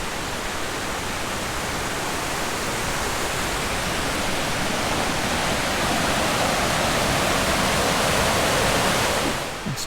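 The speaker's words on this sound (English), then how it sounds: "see if the microphone picks up the river" A river rushing beside a hiking trail, a loud, unbroken broadband roar of flowing water that holds steady and swells slightly toward the end, with no voices.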